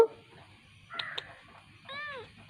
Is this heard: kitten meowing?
yes